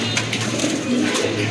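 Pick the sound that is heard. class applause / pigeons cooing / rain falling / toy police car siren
pigeons cooing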